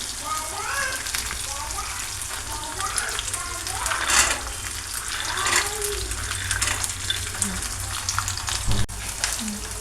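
Peanuts fry and crackle in oil as they are stirred into lemon rice (pulihora), with a steady sizzle, scraping of a spoon against the pan and a few clinks, under someone speaking.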